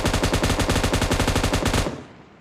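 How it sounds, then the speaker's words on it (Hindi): Rapid automatic gunfire in the BGMI battle royale game, a steady loud burst of evenly spaced shots lasting nearly two seconds before cutting off into a fading tail. "हवा में चल रही गोलियां मेरी।"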